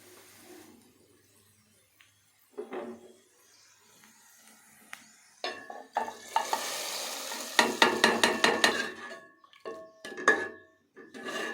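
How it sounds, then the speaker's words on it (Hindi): Onion tadka for village-style dal being stirred and frying in a pot, a spoon scraping and clacking rhythmically against the metal over a steady sizzle, close up, with quieter pauses early on before the stirring grows busy. "तड़का माशाल्लाह से तैयार हो रहा है।"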